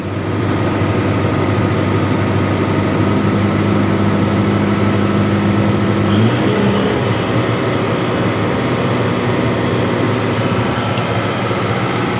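A tractor PTO driving a grain bag debagging machine during a Western Australian harvest, a loud continuous mechanical drone with steady engine hum that shifts pitch partway through as revs change.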